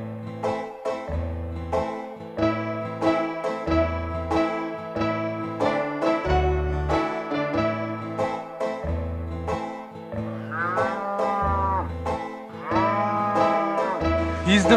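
Cows on a farm low and moo in drawn-out calls, several overlapping near the end, set against a steady rhythmic background.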